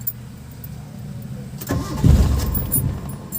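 A Mitsubishi Lancer with a hard-starting fault cranks and briefly catches before failing to keep running, the engine rumble rising loud partway through after a quieter stretch of idle-like hum.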